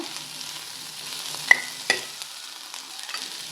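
Sweet corn kernels sizzle softly in a hot pan while a soup is being made, a low steady frying hiss broken by a couple of sharp clicks from a spoon.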